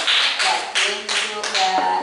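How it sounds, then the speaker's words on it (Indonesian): A small group of students claps for a presenting group in class, a short run of close, uneven claps that breaks off after about two seconds. "Tepuk tangan dulu buat kelompok Mbak Manda."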